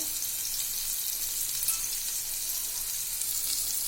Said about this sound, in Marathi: आता मी वरून थोडंसं तेल सोडणार आहे फिशवर